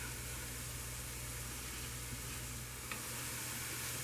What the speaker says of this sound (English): So I'm going to let these onions and the seasoning cook for a little bit